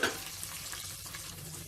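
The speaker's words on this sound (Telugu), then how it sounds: "ఈ ఉల్లిపాయని ఒక 3 నిమిషాల పాటు మధ్యలో కలుపుకుంటూ మంచి కలర్ వచ్చేంత వరకు ఫ్రై చేసేసుకోవాలి" Thinly sliced onions frying in a pressure cooker with slit green chillies, a soft continuous sizzle, quiet and close, with no voices.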